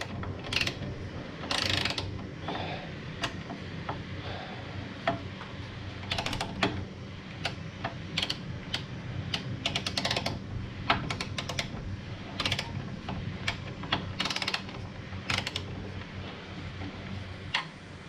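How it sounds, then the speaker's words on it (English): Ratcheting wrench clicks and metallic mechanism sounds while bolts on a Jaguar MKII are torqued up with a wrench and a bar for leverage, an irregular series of short clicks and taps over a steady low background hum, no talk. "Now these have to be torqued up to 43 foot-pounds."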